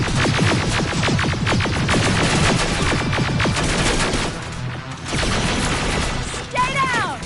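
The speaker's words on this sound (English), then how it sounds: "Under heavy fire! Keep firing!" Rapid, heavy automatic gunfire in the Terminator Resistance video game hammers out in close, repeated bursts throughout, with shouted voices mixed in.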